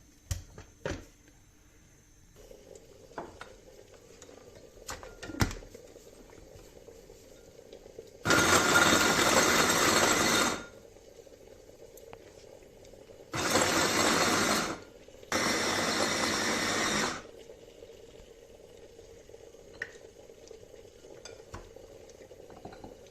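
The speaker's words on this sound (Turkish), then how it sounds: "şöyle meşe pelitlerinden bir 15 tanesini parçalayıcımıza koyalım. Güzelce parçalayalım." Electric chopper grinding about fifteen oak acorns, loud harsh whirring in three bursts, one of about two seconds then two shorter ones, with quiet handling noises between.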